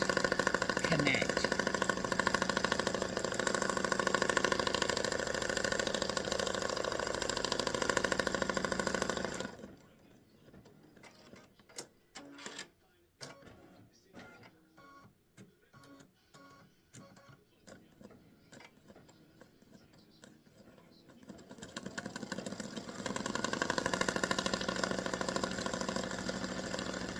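A sewing machine stitches a design onto a retirement greeting card, making rapid bursts of mechanical clicking set between longer stretches of louder, steady machine noise.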